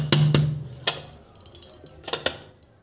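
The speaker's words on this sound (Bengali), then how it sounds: "প্লেট দিয়ে এভাবে ঝাঁকাবো।" A plate-covered pan of semolina cake is shaken, giving a few sharp metallic clatters and rattles at irregular intervals, close and moderately loud.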